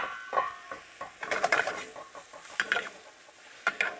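Endives caramelizing in a pan with butter and a little oil give a soft, steady sizzle, broken by several brief scraping and clinking bursts from stirring or turning the pieces, heard close up and moderately quiet.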